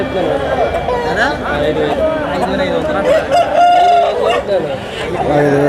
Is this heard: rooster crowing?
yes